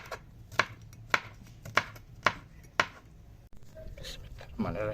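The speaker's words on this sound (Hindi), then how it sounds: "हरी मिर्च काटेंगे।" Green chillies are chopped with five sharp knife knocks on a board in a steady rhythm, close up, followed by soft kitchen clatter.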